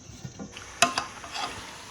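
Chicken cooks in a pan, with faint sizzling and a couple of sharp utensil clinks and scrapes against the metal midway through.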